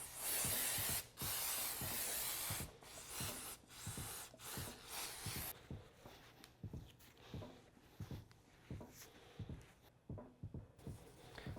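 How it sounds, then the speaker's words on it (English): Contact cleaner sprays in long, loud bursts of hiss onto a Yamaha TT-R110E fork during a rebuild, followed by shorter, quieter spurts with pauses between them. "let's go ahead and use our contact cleaner and get all this cleaned up"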